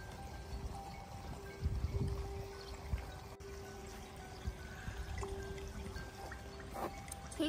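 Water pours and splashes steadily over cherry tomatoes being washed on a farm, a soft continuous stream with small irregular splashes, fairly quiet and close.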